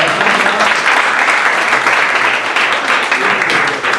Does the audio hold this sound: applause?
yes